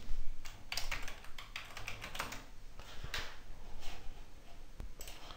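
A name is typed on a computer keyboard, a quick uneven run of close, light key clicks and taps with short pauses, no talking.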